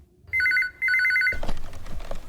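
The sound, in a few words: telephone ringing, unanswered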